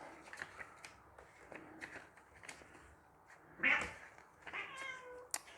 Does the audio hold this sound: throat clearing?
no